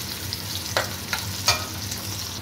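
Steady sizzling of onion frying in a hot pan until light brown, with a few brief clicks of stirring, close and continuous.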